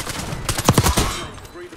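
Burst of automatic gunfire in the video game Black Ops 6, a quick cluster of several sharp shots lasting under a second amid game ambience, with a brief voice nearby.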